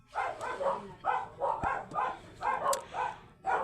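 Repeated dog barks in a steady rhythm, about eight loud yaps in quick succession, fairly close by.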